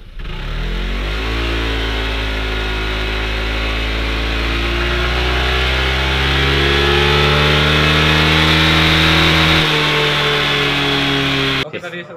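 A Honda PCX 160 scooter pulls away and accelerates, its engine note rising steadily and loud and close, holding a strong drone before cutting off abruptly at the end.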